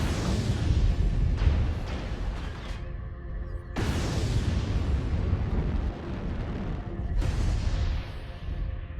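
Three big explosions from airstrikes in a mech combat video game, each one a sharp, loud blast that rolls into a long rumbling decay, arriving roughly every three to four seconds over dense background noise.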